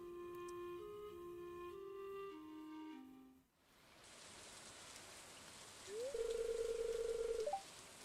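Rain in the Stardew Valley farming game is a soft, even wash of falling drops. It comes in after a melodic game tune fades, and a short electronic tone sounds over it near the end.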